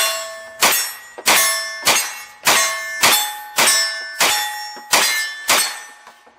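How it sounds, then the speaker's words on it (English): Nine evenly spaced metallic clangs of Hi-Point pistol rounds striking a steel silhouette target at 20 yards, each a sharp ringing ping that decays quickly, fired in a steady rapid string with no talk. "let's just go ahead and dump this mag into that same silhouette there at 20 yards"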